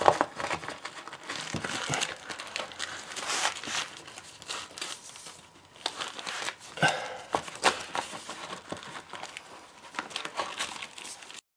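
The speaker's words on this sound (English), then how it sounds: "And a bit of tape to this side." Duct tape crinkles and rustles as it is pressed onto a damp proof membrane during brickwork, a close, irregular run of plastic crumpling and tearing noises lasting several seconds.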